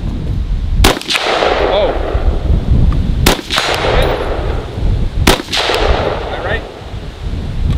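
Three loud, sharp gunshots ring out at a run and gun shooting match on an outdoor range, spaced a couple of seconds apart, with steel targets clanging and brief speech in between.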